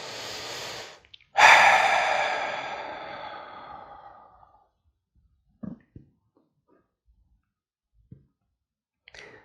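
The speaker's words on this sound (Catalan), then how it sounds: "Respira profund." A deep breath is taken during a calm guided relaxation exercise: a short intake, then a long, audible exhale that fades over about three seconds, followed by near silence broken by a few faint clicks.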